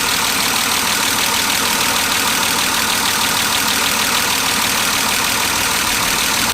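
A BMW E36, recently revived after sitting abandoned, idles steadily with its engine warming up, a loud, close and even mechanical hum with a fast regular ticking texture, running continuously without any voices.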